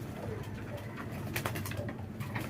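Close pigeon cooing runs through a busy room tone, low throaty rolls repeating under a few faint clicks and rustles.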